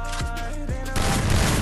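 Gunfire from a video game plays in a rapid burst of shots with low booming impacts, followed by a denser rattling stretch of continuous fire.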